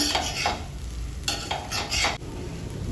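A spoon stirs palak batani rice in a sizzling pan, with several close scraping and clattering strokes over a steady frying hiss.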